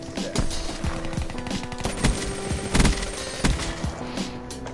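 A PPSh submachine gun in a shooter game, firing rapid, close bursts with sharp, repeated shots, alongside other gunfire in a busy firefight.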